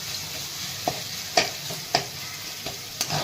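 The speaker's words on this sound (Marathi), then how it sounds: "लाल तिखट टाकलेलं आहे छान परतून घेतलेली" Ivy gourd sautéed with red chili powder in a pan sizzles steadily while a spoon stirs and scrapes, with about five sharp taps against the metal close by.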